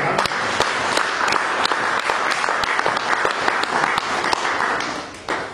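A church congregation applauds loudly and continuously during a sermon. The dense clapping fades slightly near the end.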